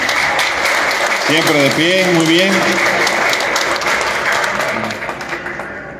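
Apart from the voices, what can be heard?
applause at a party committee swearing-in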